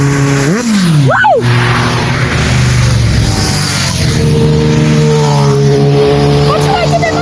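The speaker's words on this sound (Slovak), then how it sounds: "Počúvajte ten motor." A car engine roars loudly and steadily at a car-spotting event, its pitch rising and falling as it revs, close by with some voices faintly underneath.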